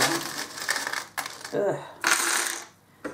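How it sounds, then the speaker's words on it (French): Small metal fortune-telling charms shaken and jingled in a hand, then scattered and drawn, producing loud bursts of bright clinking and rattling separated by brief pauses. "Attention les oreilles, on va passer au breloque. Alors, des breloques pour mes cartes, sans regarder."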